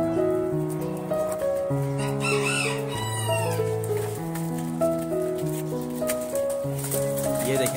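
Chickens cluck and crow close by over a loud stretch of music, with other bird calls mixed in.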